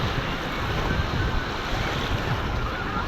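Steady Mediterranean surf washes in at Shatee El Gharam beach, Marsa Matruh, under strong wind buffeting the microphone, a continuous broad roar without voices.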